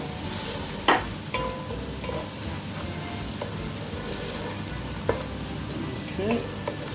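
Spices fry and sizzle with aubergine in a hot pan, a steady crackling hiss throughout with a few sharp clinks and scrapes of stirring near the start and middle.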